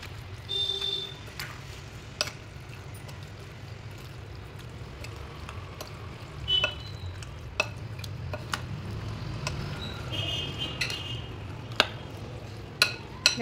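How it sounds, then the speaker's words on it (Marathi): Mutton being stirred and mixed in a pot with ginger-garlic-coriander paste and salt, sparse faint scrapes and clicks over a low steady background, no talk. "मस्तपैकी आपण ते आता मिक्स करूया।"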